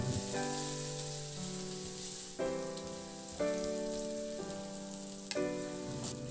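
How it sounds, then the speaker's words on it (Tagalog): Garlic sautés in oil in a kawali, a steady close sizzle and crackle of frying that goes on throughout. Sustained musical tones play underneath, and there is no talk. "Maglagay ng mantika sa kawali at igisa yung bawang."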